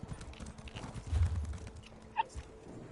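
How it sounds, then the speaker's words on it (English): Faint, soft hoofbeats from a horse ridden along a road in Elder Scrolls Online, irregular and quiet against a low background, with one brief brighter tone near the end. "So I'm just gonna ride the horse all the way there."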